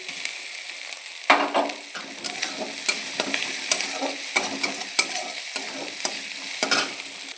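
Spices sizzle loudly in hot oil while a spoon repeatedly scrapes and stirs the pan in irregular strokes, close up with no talking.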